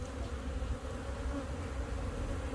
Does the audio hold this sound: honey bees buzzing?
yes